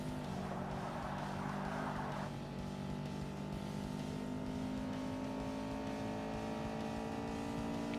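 LMP3 race car with a Nissan VK56 V8 engine in Forza Motorsport on Xbox: a quiet, steady engine drone holds at an even pitch, with a brief burst of rougher noise early on.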